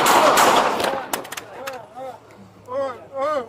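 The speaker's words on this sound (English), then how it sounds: "shots fired" Loud, rapid gunfire erupts at close range during a police bodycam encounter with a suspect holding a handgun in Modesto, and the shots quickly give way to raised voices shouting.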